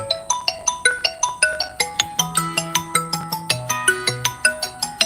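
A phone ringtone for an incoming call plays a bright, repeating electronic melody of short plucked notes in a steady rhythm, fairly loud and close, with no one speaking over it.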